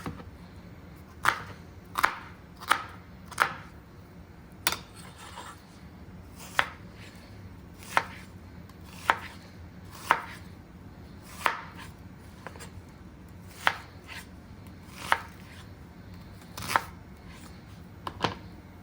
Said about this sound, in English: here's a little thing of me chopping up some of these vegetables